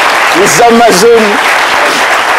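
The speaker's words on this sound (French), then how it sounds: "venez rapidement, sous les applaudissements de notre cher public" Studio audience applause, a continuous patter of clapping that runs through the whole moment beneath a presenter's loud voice.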